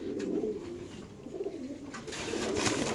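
Racer pigeons at a pigeon farm coo softly and repeatedly, the low throaty calls overlapping in a continuous murmur with a few sharper chirps and rustles, fairly close and without speech.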